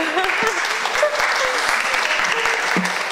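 Applause from an audience in a hall during a school diploma ceremony, sustained clapping over a murmur of voices, with occasional sharp knocks.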